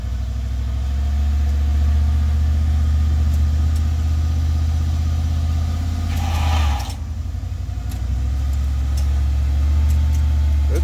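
A vehicle with a tow hitch runs with a loud, steady mid-range engine drone while a trailer is being loaded in a shop, easing off briefly around the middle before settling back into a constant idle-like hum.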